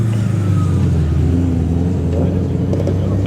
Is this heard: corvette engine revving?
yes